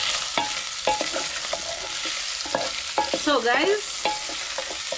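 Meat browning in a pan with only a little oil, giving a steady sizzle with bursts of stirring and scraping while a person talks over it.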